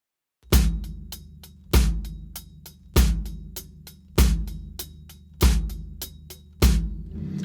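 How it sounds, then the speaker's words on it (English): On a worship-song drum kit, the bass drum plays the backbeat on 2 and 4 in place of the snare. Heavy booming hits land at an even, sparse pace, with quick cymbal or hi-hat ticks between them. "the bass drum is taking the place of a snare drum,"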